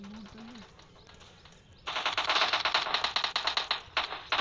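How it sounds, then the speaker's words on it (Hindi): Rapid video game machine-gun fire erupts in dense bursts after a quiet stretch with a brief tonal chirp, the rattling shots fairly close and sustained to the end. "चल रुक जा मैं थोड़ी बंदूक चलूँ।"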